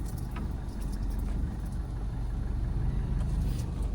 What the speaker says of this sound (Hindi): अब इधर से गाड़ी हल्का आगे लेके फिर मैं टर्न करता हूं।